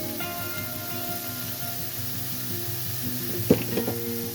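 Ham frying in a hot pan with the heat set too high, a steady close sizzle with a sharp crackle or utensil clatter near the end.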